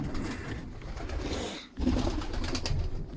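Pigeons cooing in a breeding shed where cocks are sitting on eggs: several close, low, throaty coos overlapping in a soft continuous murmur, pausing briefly before resuming.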